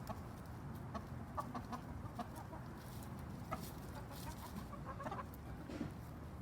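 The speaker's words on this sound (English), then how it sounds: "This is why the chickens are kind of freaking out," Chickens cluck and squawk in agitation as a cat stalks them on an urban homestead, a steady scatter of calls over continuous outdoor background, moderately faint, with no talk.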